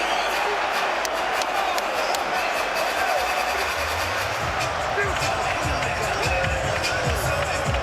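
Boxing crowd at the O2 arena during a heavyweight bout, a steady loud roar of cheering spectators throughout, with commentary over it.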